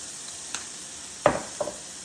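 Steak seasoned with Worcestershire sizzles in a pan, a steady faint hiss broken by a few sharp spatters and crackles.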